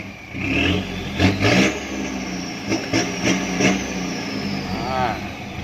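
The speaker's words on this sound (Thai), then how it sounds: "เบิ้ลติดเท้าครับรอบขึ้นไวมาก" A car engine fitted with a New Chef electric throttle controller box, set to five-gear AI mode, revs in quick bursts, climbing sharply and dropping back, loud and close over a steady idle.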